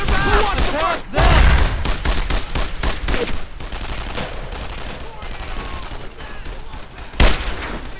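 Dense gunfire from Brothers in Arms: Earned in Blood, with rapid rifle and machine-gun bursts and a loud close shot near the start and another near the end, all over a continuous wartime battle din.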